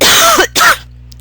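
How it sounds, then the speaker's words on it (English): Two sharp coughs, the first with a throat-clearing rasp, land loud and close into a microphone, followed by near silence. "I'm sorry, I coughed in your ear."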